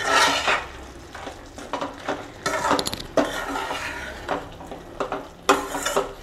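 Jaggery being stirred into pakarkai (bitter gourd) curry in a pan, with repeated scraping and clinking strokes of a spoon against the metal and a faint sizzle underneath, close by and fairly loud.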